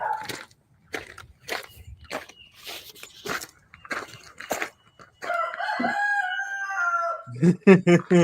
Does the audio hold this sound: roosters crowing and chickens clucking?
yes